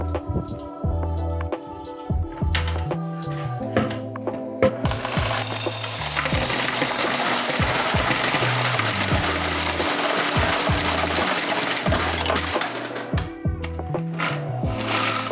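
Coins from a laundromat change machine, Canadian loonies, being counted and poured, with dense metallic clinking and jingling that swells into a long, loud cascade before settling into scattered clinks.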